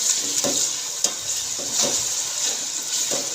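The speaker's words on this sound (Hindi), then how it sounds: "इसके अंदर अदरक लहसुन का पेस्ट डाल देंगे।" Ginger garlic paste frying with tomatoes for aloo gobhi matar sabzi, a constant loud sizzle with regular stirring strokes roughly every half second, close up and without speech.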